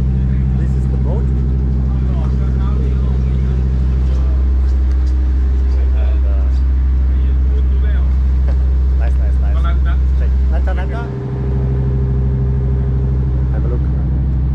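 A ferry boat travelling from Phuket to Ko Lanta in Thailand, a loud, steady, low engine drone that runs unbroken throughout, close and dominant, with some busy background noise on top.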